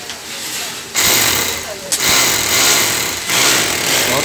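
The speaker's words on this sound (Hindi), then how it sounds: "ड्रिल मशीन का साउंड बहुत ज़्यादा आ रहा है" An electric drill bores into a wall during a TV installation, its loud motor whine starting and stopping in bursts of a few seconds, close by.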